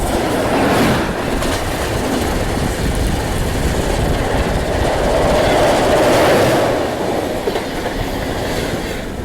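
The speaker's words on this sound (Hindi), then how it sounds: "और सामने से आ रही है जम्मू तवी कानपुर एक्सप्रेस।" The Jammu Tawi Kanpur Express passes at moderate speed, a loud, continuous roar of rolling wagons with rhythmic clickety-clack of wheels over rail joints, swelling slightly near the middle as cars rush by close at hand.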